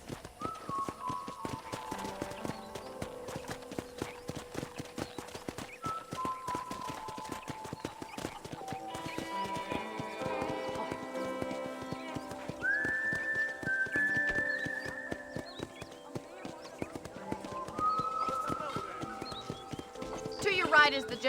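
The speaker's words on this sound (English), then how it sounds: "let's see if you can still ride a horse" Steady clip-clop of horse hooves trotting in a quick, even rhythm in Red Dead Redemption, with game music and a whistled tune playing over it.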